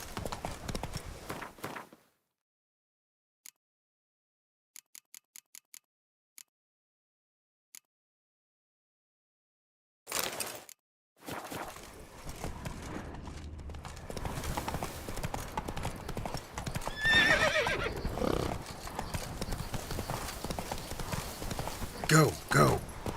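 Steady, rhythmic clip-clop of horse hooves galloping in the Witcher 3 video game, running continuously after a quiet stretch, with a voice speaking over the hoofbeats.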